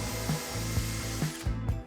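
A power drill pre-drills holes with a 2.5mm bit while glazing clips go onto an air conditioner window seal for a sliding door. It makes a steady, close whir broken by regular knocking pulses as the bit bites.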